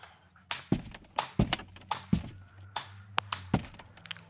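Wooden footstep effects from a Unity game play as a regular series of hollow thunks, one step every half second or so, clear and close with quiet gaps between.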